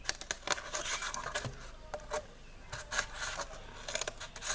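White cardboard being cut into a turtle shape, a run of close, uneven rasping snips and scrapes with short pauses between strokes.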